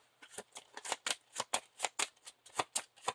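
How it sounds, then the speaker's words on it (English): A deck of playing cards is shuffled during a Lord of the Rings card game, with a quick run of crisp, close riffling flutters and snaps repeating in a steady rhythm, no voices present. "And then shuffle back in."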